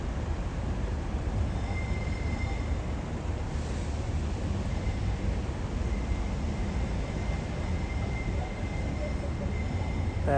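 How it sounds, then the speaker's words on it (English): A Sydney Trains unit rumbles steadily as it arrives at Central Grand Concourse after an L1 Dulwich Hill Line run, with a constant low roar and a faint high wheel squeal held throughout. "That's Airbus 100 unit 2125, just arriving at Central Grand Concourse"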